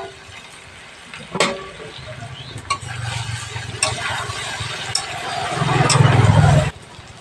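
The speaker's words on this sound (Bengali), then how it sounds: "এইভাবে আমি আলুটা ভাজতে থাকবো।" Potatoes fry in a pan while a spatula scrapes and stirs them, giving a loud sizzle with occasional clanks that rises and then cuts off abruptly.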